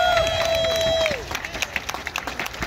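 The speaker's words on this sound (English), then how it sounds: "So can we just give a round of applause for everybody on this stage?" Applause for people on stage at an outdoor women's rally at Restoration Plaza starts as a sustained tone fades out, then builds into scattered, uneven claps from the crowd.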